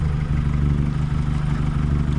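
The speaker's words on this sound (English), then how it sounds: "You can leave it ticking over now." Steady, close car engine idle with a low pulsing rumble and light clattering ticks, no voices.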